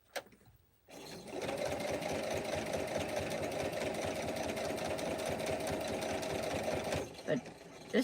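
A sewing machine stitches quilting into a ghost pillow, running in one steady, fast, continuous burst for about six seconds before it stops, with a few clicks afterward.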